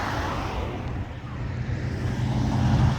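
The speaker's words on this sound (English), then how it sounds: "Big Cadillac, presidential car." A big Cadillac presidential car rolls past in a classic car and motorcycle cavalcade at Kernewek Lowender on the Copper Coast, its steady engine rumble close and continuous over low crowd and traffic noise.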